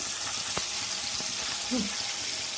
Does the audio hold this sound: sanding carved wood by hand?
no